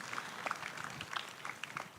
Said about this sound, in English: Please give the round of applause for the panel of speakers.